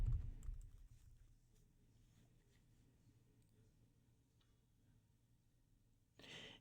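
Typing on a computer keyboard: faint, sparse key clicks over a quiet background, framed by a louder thump at the start and a short burst near the end.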